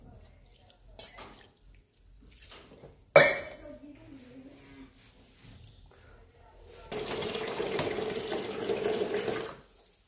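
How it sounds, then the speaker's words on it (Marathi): Cold tap water runs over freshly made homemade paneer in a sink, a steady gush in the last few seconds after scattered clatter and a sharp knock. "थंड पाणी टाकून घेतलं, थंड पाण्याखाली परत आता एकदा धुवून घेऊ चांगलं।"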